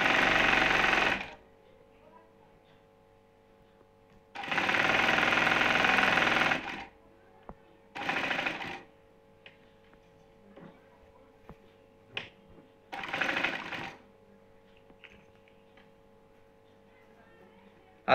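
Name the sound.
sewing machine stitching a ribbon on a cotton housecoat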